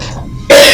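One short, sharp cough bursts out near the end after a quiet moment.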